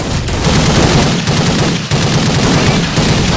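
Rapid, continuous automatic gunfire from Counter-Strike 1.6 deathmatch on de_dust, loud and dense with overlapping shots and no talking.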